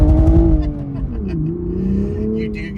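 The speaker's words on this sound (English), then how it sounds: "Take a launch from the stop." A manual Toyota GR Supra launching from a stop, a loud close engine roar that dips as the clutch bites, then pulls steadily with a rough, hopping edge.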